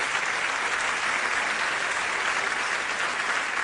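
A theatre audience applauds at a concert with musicians and singers on stage, a dense, even wash of many hands clapping that stays loud and continuous throughout, with no talking.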